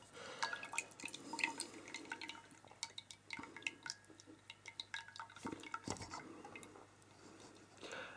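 Liquid from a can of whole chicken drains in a faint, steady patter of irregular drips and trickles, with small clinks of the container, close by and quiet with no talk.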